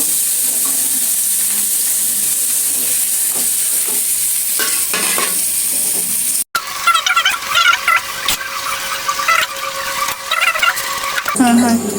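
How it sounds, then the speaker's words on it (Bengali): Pieces of rui fish fry in hot oil, a loud continuous sizzle close up, then the hiss changes as the fish is stirred and turned in the pan. "এক একটা মাছের পিস ছেড়ে দিচ্ছি। এই মাছ সুন্দর করে ভেজে নিব।"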